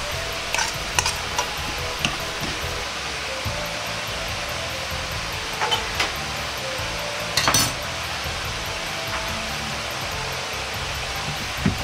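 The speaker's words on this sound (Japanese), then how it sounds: "そうしたら炒めたエビを入れます。" Shrimp sautéed in a pan stirred into a thickened curry, with steady soft frying and scraping stir noises and a few sharp utensil clinks, no talking.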